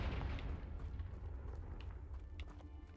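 A Confringo fire spell explosion in Hogwarts Legacy, a deep rumbling boom that starts strong and slowly fades over a few seconds, with faint crackles on top.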